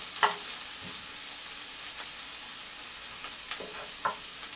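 Onions frying in a pan, a steady close sizzle with a few light clinks and stirring scrapes over it, no talking.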